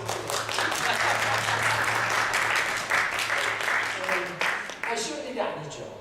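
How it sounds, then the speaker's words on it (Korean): An audience breaks into sustained applause, dense clapping that thins toward the end, with a voice speaking over it. "박수 치고."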